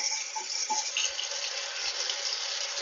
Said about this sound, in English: Just get some nice cold water, like really cold, and just rinse it off.